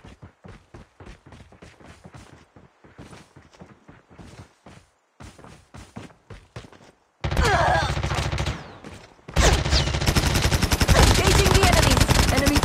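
Gunfire in a Call of Duty match: quick rhythmic footsteps first, then long, loud bursts of automatic fire, a brief pause, and a second sustained volley.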